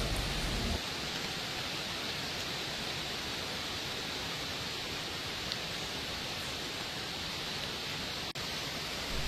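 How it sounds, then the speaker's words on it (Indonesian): Light rain falls on an Eiger Berganoa 1P tent, a steady even hiss of drops on the fabric that stays constant and close throughout, with no voices. "dan ini keesokan paginya baru ada hujan kawan-kawan"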